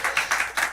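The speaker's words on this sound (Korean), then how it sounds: "우리 박수 한번 치겠습니다" A small group clapping in quick, uneven bursts, fairly close and steady for a brief moment, with no talking.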